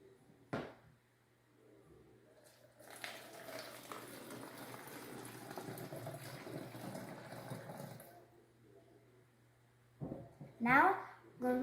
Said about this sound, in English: So now we're going to add 1 cup of water